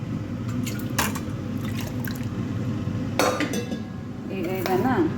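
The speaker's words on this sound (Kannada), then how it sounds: "ಸ್ವಲ್ಪ ನೀರು ಹಾಕ್ತಾ ಇದ್ದೇನೆ." A little water is poured into a pot of sambar mixed with cooked toor dal, with a soft splashing trickle, light clinks of a metal vessel and spoon, and quiet kitchen background.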